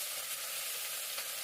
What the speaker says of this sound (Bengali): তুলে দিচ্ছি বেগুনটা, আলু দিয়ে দিচ্ছি, আলু একটু ভাজবো